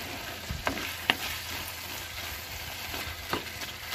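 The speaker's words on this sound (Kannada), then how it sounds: "ಇನ್ನೂ ಒಂದು ಸ್ವಲ್ಪ ನಾವು ಹಿಂಗೆ ಕೈಯಾಡ್ತಾ ಕುದಿಸಿದಾಗ ಇನ್ನೂ ಒಂದು ಸ್ವಲ್ಪ ಮೆಲ್ಟ್ ಆಗುತ್ತೆ ನೋಡಿ." Tomato gojju bubbles and sizzles steadily in the pan as it is stirred, with a few soft scrapes and knocks of the spoon breaking through the constant hiss.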